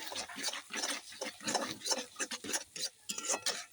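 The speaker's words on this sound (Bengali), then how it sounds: "ডিম দেবো আলুর দমে, এই দিয়ে দিলাম বন্ধুরা, নেড়ে দিচ্ছি দেখুন সুন্দর করে।" A spoon stirs eggs through a pan of Bengali potato curry (alur dom), scraping and clinking in a steady run of short, close strokes with a soft sizzle beneath and no talking.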